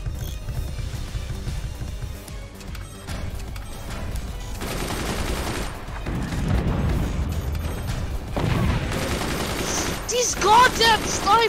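Gunfire and impacts from the Forts multiplayer strategy game against AI bots, with rapid rattling bursts and booming hits layered over one another, growing denser and louder toward the end, mixed with game sounds.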